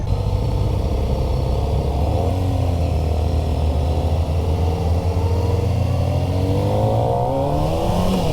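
Kawasaki ZX-4RR sport bike with an inline-four 400 engine accelerating on a ride event, a loud, close, high-revving buzz whose pitch climbs steadily through the gears for several seconds without pause.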